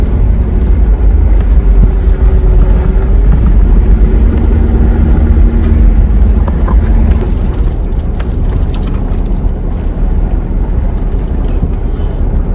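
A car drives slowly over rough ground through a desert camping area at Trona Pinnacles, its low engine and tire rumble loud and steady throughout, with no talking.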